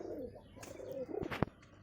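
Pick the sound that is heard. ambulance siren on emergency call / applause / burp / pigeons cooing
pigeons cooing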